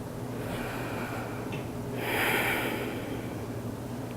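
Slow, audible breathing during a yoga pose, close and soft, with a deeper, louder breath swelling about midway through and no talking.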